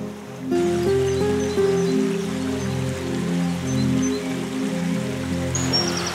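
A heavy rain shower drums steadily on the ground and leaves along a dale in the Peak District, a dense continuous patter close by with no talk.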